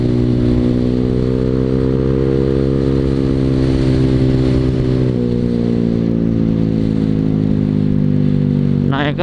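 A Honda Vario scooter with a new road race exhaust revs loudly and steadily close by, its engine note climbing then easing back as it hits the limiter, with a sharp blip near the end.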